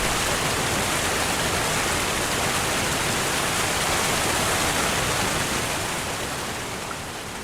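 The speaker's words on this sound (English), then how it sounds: "Oh, there's the waterfall." Waterfall in the video game Obduction pours in a dense, steady broadband rush of falling water, loud and continuous with no voices, easing slightly toward the end.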